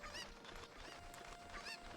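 Cucco chickens in Zelda Ocarina of Time squawk and cluck in repeated bursts over a soft game backdrop, their calls close and somewhat faint.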